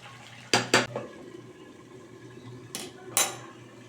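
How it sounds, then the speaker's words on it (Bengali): Metal pot lid lifted aside and spoon scraping as chicken is stirred in a covered pot, a few sharp close clinks and clatters in two pairs over a low simmering background, no speech. "আবার আমি একটু ঢাকাটা সরিয়ে নিচ্ছি"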